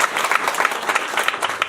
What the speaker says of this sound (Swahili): Pigie jamaa makofi